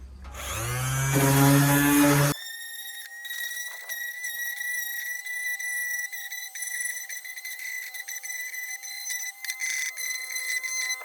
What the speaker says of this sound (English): sand off the splintered wood on the edges of the boards